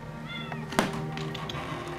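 Cats meow in a house, with a short tonal cry near the middle and faint, wavering calls around it, heard close over a low background hum and a soft knock.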